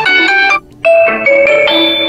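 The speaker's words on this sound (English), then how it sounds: "select the default ringtone" Default ringtone playing on a Huawei P60 Pro phone: loud, clear melodic tones in short repeated phrases, with a brief pause before the tune resumes, no talk over it.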